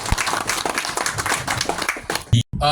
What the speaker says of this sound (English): Please, please give them a big hand of applause.